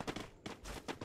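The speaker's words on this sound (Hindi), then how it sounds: "कुछ तो इज्जत करो, थम्सन से मार रहे हमको" Rapid bursts from a Thompson submachine gun in the Free Fire battle game, several short volleys in quick succession, fairly faint and with no talk over them.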